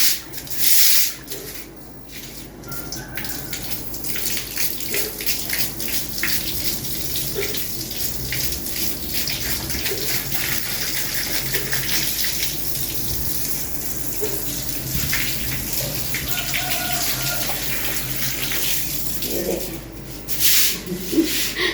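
A small old broom scrubbing a wet courtyard floor while tap water runs, producing continuous rough scraping and splashing close by throughout, with brief pauses near the start and end.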